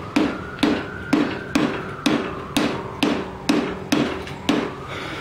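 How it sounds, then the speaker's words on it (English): Hammer blows on the head of a small engine from a Snapper being restored, about eleven sharp metallic taps in a steady, close rhythm, each ringing briefly with no speech. "I'm going to tap this with a hammer, see if I got all of them, see if it comes loose"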